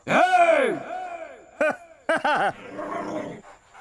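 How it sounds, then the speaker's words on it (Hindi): A dog growls and whimpers in short harmonic bursts, close and fairly loud, with a longer drawn-out whine at the start and choppy clustered growls after. "तू क्या गुर्रा रहा है?"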